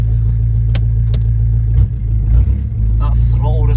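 A 1.9 TDI diesel car with a 3-inch downpipe and no exhaust pulls away, its loud, close engine droning and rising in revs, heard from inside the cabin while a person talks over it.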